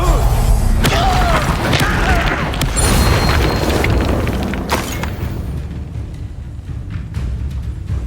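A Confringo blast spell in Hogwarts Legacy, a loud booming explosion with crashing debris that rolls on and slowly fades, with brief spell cries and other combat effects around it.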